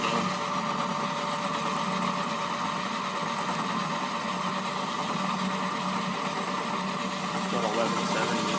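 An engine idles at around 1100 RPM with a steady, even hum and fine high-pitched vibration, constant in loudness throughout.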